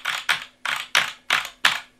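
Six evenly spaced, crisp, echoey key strikes on a Gigabyte K9 open-frame gaming keyboard with optical switches, close and clear with no talk.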